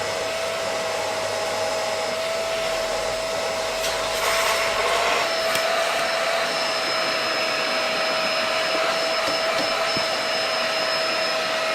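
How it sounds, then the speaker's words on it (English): A steady, loud vacuum whine runs throughout with a constant tone, briefly shifting as the nozzle moves over a VW Polo's car interior, with no talking. "I'm going to give this Polo a little bit of an interior clean, starting with a good hoover"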